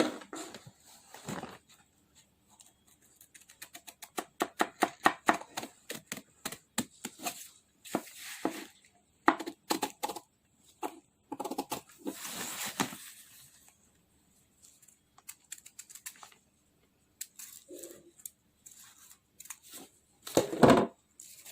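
Scissors cutting a garment yoke from fabric, bursts of rapid crisp snips in quick series separated by pauses, close and quiet.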